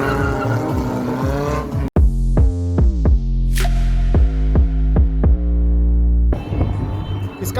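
Modified Honda City saloon lapping Buddh International Circuit, its engine roaring loud and close through repeated gear shifts, each upshift dropping the revs before climbing again, with a brief cut near the start.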